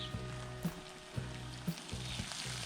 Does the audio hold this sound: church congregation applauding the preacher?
no